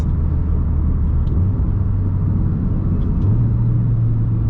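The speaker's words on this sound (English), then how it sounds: "Instant downshifts." Steady engine rumble from a Mitsubishi Lancer Evolution X with quick stepped jumps in pitch as the transmission downshifts instantly, shifting up and down abruptly with no pause in the drone.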